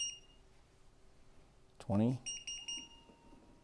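A cooker sounds short electronic beeps as its buttons are pressed to start a timer. Thin tones sit under a man's nearby speech, which says a number.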